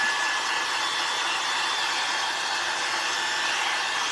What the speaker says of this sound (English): I'm going to turn the dryer on.